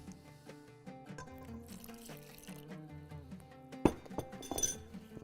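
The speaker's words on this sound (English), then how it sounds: "Now we can add a little bit of water." Water is added to a flour batter for the Bahraini dessert qurs al tabi, heard as faint clinks of glass and a brief splash of pouring liquid, quiet and close.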